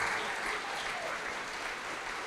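Church congregation applause in a worship service, many hands clapping in a continuous soft roar, fairly quiet and distant, holding steady with no clear breaks.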